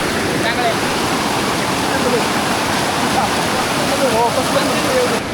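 Kondeshwar waterfall at Kamshet in the monsoon rain, a steady, loud, broadband roar of falling water that fills the whole stretch without letting up, with faint voices or birdlike chirps barely showing through.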